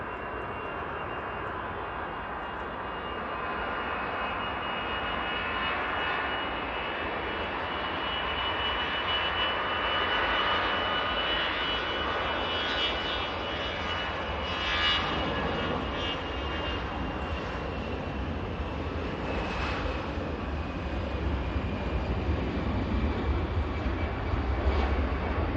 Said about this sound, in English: Eurowings going past us.